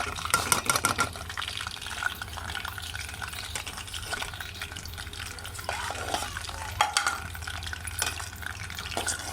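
Homemade hair oil being stirred in a pan over low heat, a steady scraping swirl with faint liquid sloshing and a low simmering hum, close and continuous with no talk.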